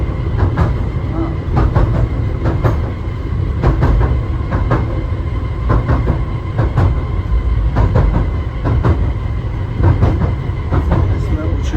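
A small seaside tourist train rolls steadily along with a loud continuous rumble and regular clickety-clack wheel beats, recorded close by from on board, with some voices mixed in.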